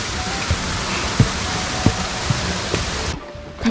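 Rushing water from the Nanayo waterfall on Mount Mitake in Tokyo pours as a dense, steady roar close by, with occasional soft thumps over it.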